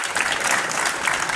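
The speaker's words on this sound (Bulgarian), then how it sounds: "аплодисменти за него" An indoor audience at a GERB Burgas political event gives sustained, dense applause for an announced candidate from the Burgas party list, the clapping continuous and even with no pauses.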